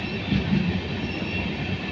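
The Sairang–Kolkata Express rolls slowly into Murshidabad station, a steady low rumble of wagons with a faint wheel squeal, heard from on board and without voices.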